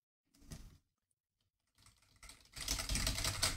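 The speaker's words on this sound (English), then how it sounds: "let's try typing with this." Someone types on a Razer Cynosa Lite keyboard: a brief burst of key presses, a pause, then a quick run of rapid clattering keystrokes that builds to a dense, steady patter.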